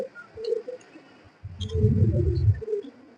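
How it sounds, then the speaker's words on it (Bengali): Cooing of a pair of pet pigeons in a loft, a soft low warbling coo swelling in the middle of the clip with faint higher chirps around it, fairly close and with no talking. "এই যে এইখানে এক জোড়া পছন্দের কবুতর আছে একদম নিচে।"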